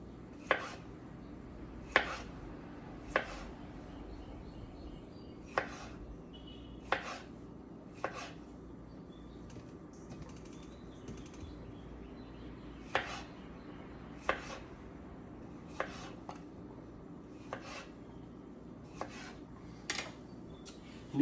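Knife chopping food on a cutting board while preparing shrimp and grits, sharp isolated thunks at an uneven pace of roughly one every second or two, close and clear over a quiet kitchen background.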